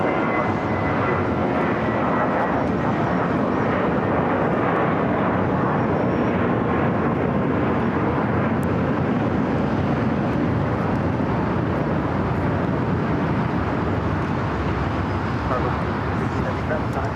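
A Spirit Airlines jet takes off at LAX, its engines roaring steadily and loudly for the whole stretch, a broad sustained rumble with no letup; a voice talks faintly underneath.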